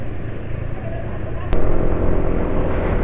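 A car engine idling smoothly on an oil mixed with cooking oil, a steady even hum close by, briefly interrupted by a sharp click before continuing slightly louder.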